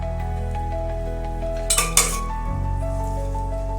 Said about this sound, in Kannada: ಸಾಸಿವೆ ಜೀರಿಗೆ ಹಾಕ್ತಾ ಇದ್ದೀನಿ.